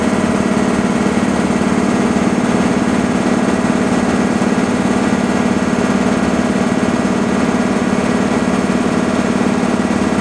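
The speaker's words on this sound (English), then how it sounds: "I can shut the compressor off" An air compressor fills SCBA breathing-air bottles, running as a loud, steady mechanical drone with a constant low hum that never lets up.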